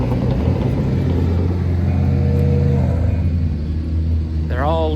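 Cars pull away one after another as a car show breaks up, a steady rumble of engines close by with a rev rising near the end, while people talk nearby.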